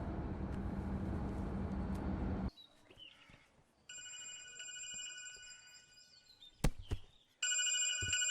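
A telephone rings in an indoor movie scene, an electronic ringing tone that starts after a burst of background noise, runs for a few seconds, pauses briefly, then resumes.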